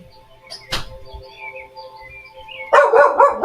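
A pet dog barks loudly indoors, one sharp bark early followed by a burst of rapid, close barking near the end over quiet background tones.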